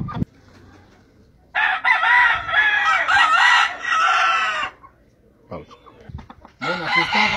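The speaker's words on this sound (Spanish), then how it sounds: "Este es un gallo Chuyito Vela, importado" A Chuyito Vela gamecock crows loudly and close, two long drawn-out calls with a shorter burst between them, against a quiet background.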